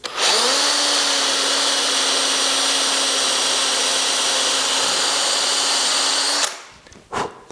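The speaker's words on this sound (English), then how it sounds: "I will put 2 holes, to drill 2 holes, which is where I'm going to put my screws." Electric driver drills a hole into wood while building a gaming table, a loud steady whine running for about six seconds before it stops and is followed by brief handling clatter.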